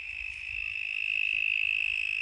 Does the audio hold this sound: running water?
no